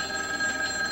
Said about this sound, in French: Téléphone, chérie.